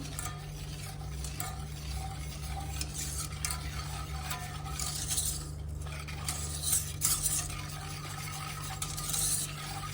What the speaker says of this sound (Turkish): Bunu hiç durmadan sürekli karıştıracak arkadaşlar.